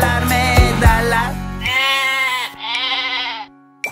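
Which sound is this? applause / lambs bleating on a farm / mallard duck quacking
lambs bleating on a farm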